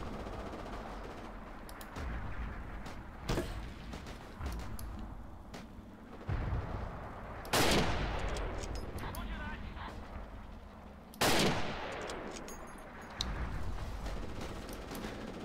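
Gunfire from the World War II shooter game Forgotten Hope 2 on the Mareth Line map: scattered shots and two loud bursts stand out over a constant battlefield rumble, with a player talking over it.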